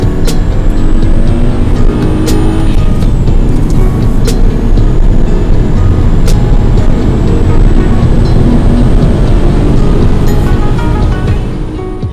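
A Skoda Laura 1.8 TSI sedan with a manual gearbox drives under hard acceleration, giving a loud, continuous engine roar and road noise from inside the cabin, with a few sharp clicks and ticks along the way.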